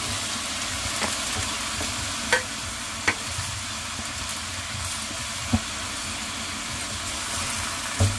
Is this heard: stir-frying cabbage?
yes